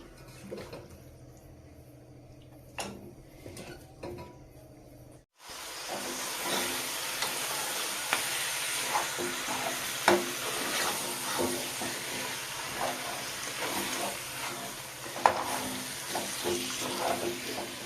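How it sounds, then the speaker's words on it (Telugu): One kilogram of washed country chicken being mixed with ground masala in a pan, giving a steady sizzling hiss with scraping stirs, loud and continuous after a quieter opening few seconds, no talking over it. "ఇదంతా మిక్సీ మసాలా అంతా చికెన్ పట్టే వరకు కలుపుకోవాలండి."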